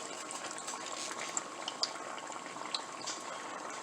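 Older frying oil for homemade corn dogs bubbles and sizzles close by, a dense continuous crackle flecked with sharper pops, with no talking.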